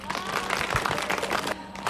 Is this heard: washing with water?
no